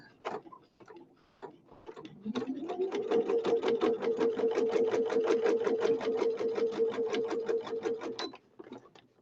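A sewing machine stitches a sewing machine cover with a rapid, even run of needle clicks and a motor whine that ramps up and holds for several seconds, close and alone, framed by a few handling taps.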